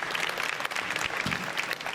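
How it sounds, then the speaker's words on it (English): Audience applause at an innovation pitch event in Amsterdam, a steady dense clapping from a crowd that holds evenly through the short stretch without speech. "Oh yeah, get first applause. Yeah, applause."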